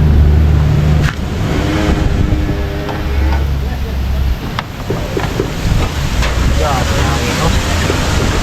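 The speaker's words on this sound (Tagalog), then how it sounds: "Lakas ang hangin." Strong wind buffets the microphone in loud gusts, with rushing low roar and occasional thumps, no clear voices.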